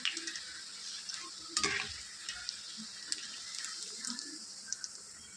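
Mutton kola balls deep-fry in hot oil, giving a continuous soft, bubbling sizzle with an occasional faint clink or scrape of a slotted spoon, heard close and at low volume.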